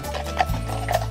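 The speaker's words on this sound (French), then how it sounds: "Hop là, des chevaux sur un dos d'âne." Percheron draft horses walk slowly while pulling a passenger carriage over a speed bump on a country road, their hooves giving a steady, soft clip-clop under low rolling rumble.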